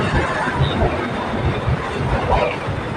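A BTS Silom Line Skytrain moves along the platform at Saphan Taksin station, a close, continuous rolling rumble with faint rattling wheel noise and a high metallic whine, and no voices.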